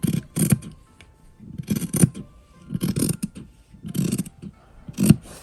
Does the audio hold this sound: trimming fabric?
yes